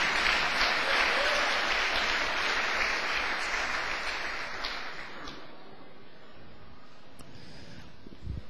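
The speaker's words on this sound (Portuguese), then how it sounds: "Dá mais uma salva de palmas" A church congregation applauds once more during a sermon, thick continuous clapping for about five seconds that then thins out and fades into quieter room noise with scattered small sounds.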